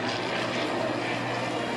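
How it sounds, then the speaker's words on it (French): A Junkers Ju 52 trimotor at an air show passes overhead, its radial piston engines giving a steady, loud crackling drone that fills the whole short stretch without letup. "Alors qu'au-dessus, on entend ces moteurs crépiter"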